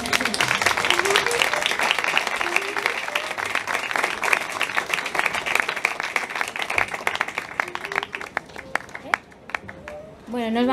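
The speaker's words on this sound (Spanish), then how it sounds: "Así que Joaquín, damos un aplauso." An audience at a band concert claps loudly and steadily, the dense applause thinning out toward the end, while voices talk over and around it.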